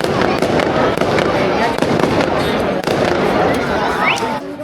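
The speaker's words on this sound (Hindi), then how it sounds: "पटाखों की एक बरसात, मतलब हर साइड पे।" Dense, continuous crackling and popping of fireworks and firecrackers bursting all around on the last night of Las Fallas in Spain, with sharp louder bangs scattered through a steady barrage and a rising whistle near the end.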